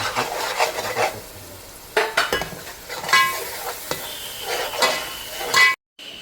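A ground paste of chili, coriander and ginger stirred into a hot pan for village chicken curry, giving a soft background sizzle broken by several bursts of close spoon scraping, then a sudden brief silence before the sound resumes.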